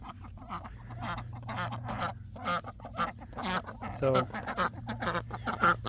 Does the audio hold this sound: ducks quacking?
yes